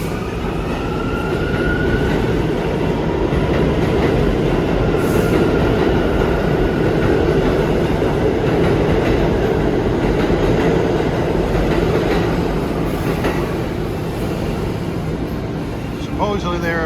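A Bombardier R179 subway train on the uptown A line pulls out of 4th Street station, its steady rolling rumble and rail noise holding loud and close throughout, with faint wheel squeal and clatter building near the end.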